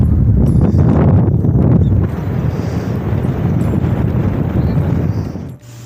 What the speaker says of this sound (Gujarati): અત્યારે જબરજસ્ત વંટોળ, આંધી અને પવન છે